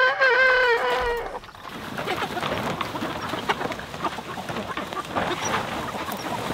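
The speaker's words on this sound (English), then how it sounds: "Now let's move these meat chickens." Meat chickens cluck and chatter in a dense, continuous flock noise close by, following a short high whining sound at the start.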